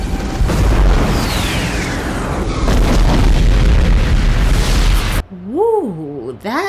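Heavy booming blasts of torpedo fire from the 1979 film Star Trek: The Motion Picture fill the first five seconds as a dense roar, then cut off abruptly into voices talking.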